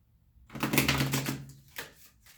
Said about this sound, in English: I'm done with my shuffling skills today.